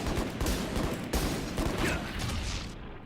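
Rapid gunfire from a sniper rifle and other weapons during a competitive Game Changers EMEA 2026 esports playoff match between KC and GX, with a dense, continuous clatter of shots and mechanical noise running steadily throughout, no talk.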